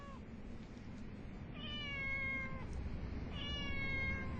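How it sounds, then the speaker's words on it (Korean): A cat meows twice in drawn-out, wavering cries, fairly clear over a low background hum. "어디선가 고양이 울음소리가 담을 넘어온다."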